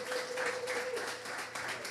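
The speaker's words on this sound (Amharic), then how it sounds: "አረ ልልታ ጭብጨባ ስጡልኝ ለዚህ ለኢየሱስ።" A church congregation claps and cheers together, a dense wash of applause with a high sustained ululation-like tone early on, steady throughout.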